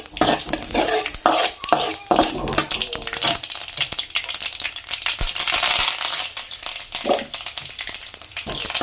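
Loud sizzling and crackling of spices tempering in hot oil in a kadai, with scraping stirring and the clink of a utensil against the pan.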